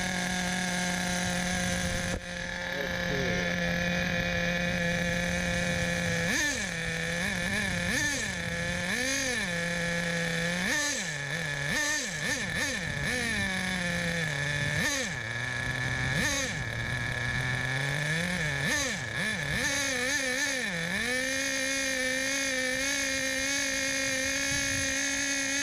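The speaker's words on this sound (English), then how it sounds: "This is an OS 12 engine." A small OS 12 nitro engine in an HPI RS4 RC car buzzes at high pitch, its revs repeatedly rising and falling in bursts before settling into a steady idle.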